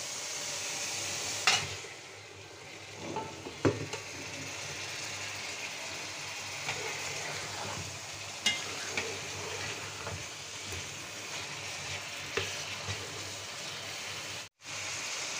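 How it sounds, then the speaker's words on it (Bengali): Surma fish added to a pan of potatoes and pointed gourd already being sautéed for a homemade Bangladeshi fish curry gives a soft, steady sizzle, with a few brief clatters over it. "আলু পটল কষিয়ে নিলাম, এ পর্যায়ে মাছগুলো দিয়ে দিচ্ছি"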